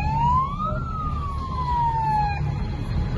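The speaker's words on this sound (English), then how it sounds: "There's a lot of sirens." Wailing emergency vehicle siren sweeping up and down through the tone, moderately distant over a steady low traffic rumble along a street with security signs.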